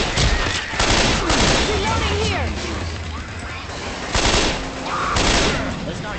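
Grenade launcher firing in a video game, with repeated heavy blasts and crashing impacts layered into dense, loud combat noise while voices talk over the action.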